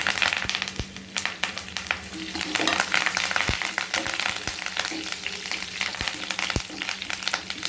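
Curry leaves, dried red chillies, garlic and cumin crackle as they fry in hot oil, with a steady broadband sizzle broken by sharp pops and stirring clicks, close and continuous throughout.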